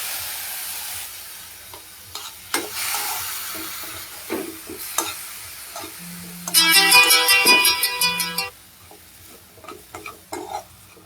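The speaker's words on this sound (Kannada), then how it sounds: "ಇದು ಆಲ್ಮೋಸ್ಟ್ ಚೆನ್ನಾಗಿ ಫ್ರೈ ಆಗ್ತಾ ಇದೆ." A pan of food frying after two tablespoons of milk are added, intermittent stirring clinks and scrapes, then a loud bright sizzle burst lasting a couple of seconds, close by, with no talk.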